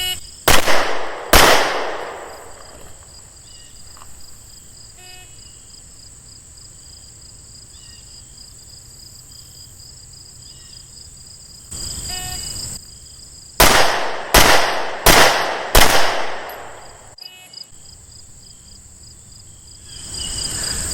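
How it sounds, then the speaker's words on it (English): Sharp, loud pistol shots from an M&P 40 during a police handgun qualification course: two close reports, a long pause, then a rapid string of four or five shots, with faint outdoor ambience between. "fire out 4 more rounds in that time limit of 5 seconds"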